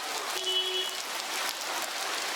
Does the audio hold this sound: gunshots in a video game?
no